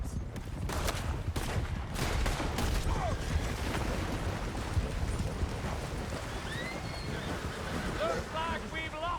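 Gunfire during a horseback chase in Red Dead Redemption 2, with rapid scattered shots over galloping hooves and a rushing, noisy background, while voices shout and horses whinny near the end.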